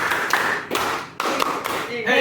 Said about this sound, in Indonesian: Tepuk 1, tepuk 2, hey. Tepuk 3, ha.